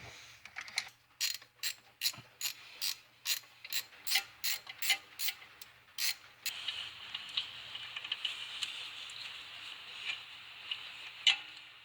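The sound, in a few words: ratchet loosening a long transmission bolt on a 1997 Honda Civic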